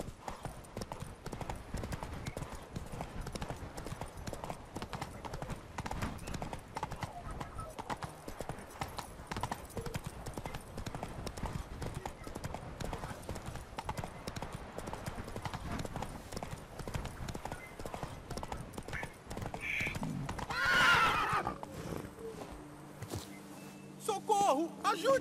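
Steady, rhythmic hoofbeats of a horse in The Witcher 3: Blood and Wine clop along for a long stretch, followed by a whinny near the end.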